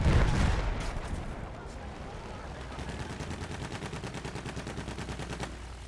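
Machine gun fire in the Battlefield 1 video game, a loud opening burst followed by a long stretch of rapid, evenly pulsing automatic fire at moderate distance, with faint talk underneath.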